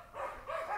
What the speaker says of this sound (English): Sorry about the neighbor's dogs, too.